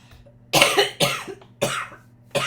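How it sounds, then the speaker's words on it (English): Four harsh coughs in a row, close and fairly loud, with short breathy gaps between them. "I'm coughing and coughing and coughing right now."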